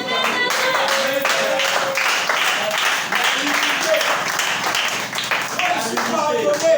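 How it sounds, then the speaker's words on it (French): A church congregation claps and applauds in a sustained, dense burst of hand claps filling the room, with a voice carrying over the clapping. "Acclamez très fort."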